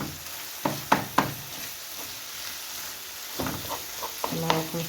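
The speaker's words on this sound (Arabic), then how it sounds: "نكمل نخلط حتى يتقلى اللحم تاعنا مليح" Meat frying in a pan for brik, a steady sizzle broken by a few sharp scrapes and knocks of a spoon as it is stirred, close and fairly loud.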